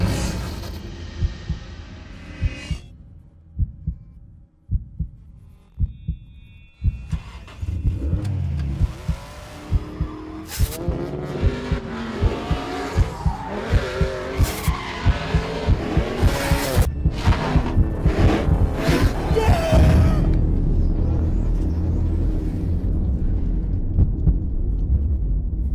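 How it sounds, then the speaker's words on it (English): A Volkswagen GTI Mark V in a racing game revs up and accelerates through gears, its engine rising and falling with rhythmic thumping pulses and repeated shifts, growing louder and busier toward the end. "The GTI Mark V, pre-tuned by German engineers."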